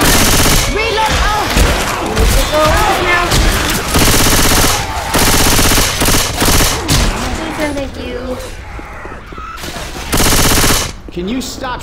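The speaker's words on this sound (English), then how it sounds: "Can you stop shooting me?" Gunfire in the video game Left 4 Dead 2 rattles loud and near in dense bursts of automatic fire and single shots that go on almost without a break, mixed with game noise and players talking.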